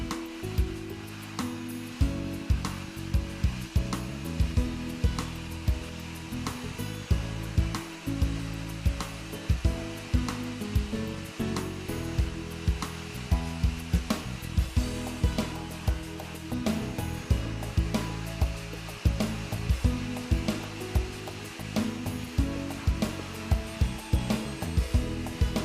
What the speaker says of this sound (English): Notice how the KV80's powerful 3000 watt vacuum system requires just one pass